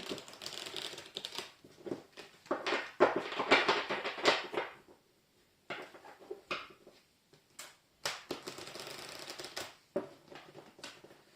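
A deck of oracle cards is shuffled by hand in soft, crisp riffling bursts, close and fairly quiet, separated by short pauses.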